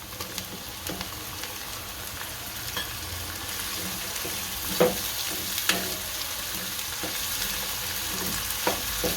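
Tomatoes going into a frying pan of spiced chickpea curry base, with a constant soft sizzle and a few sharper splatters and utensil taps near the middle. The sound is close, with no talk.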